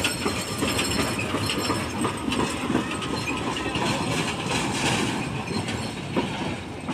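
A small museum train runs along its rails at Hubli Railway Museum, giving a steady, continuous rumble and clatter of wheels with faint squeals, close by and alone without talk.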